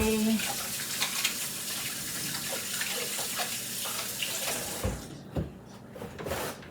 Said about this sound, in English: I'm going to wash my hands because I have raw ground beef on them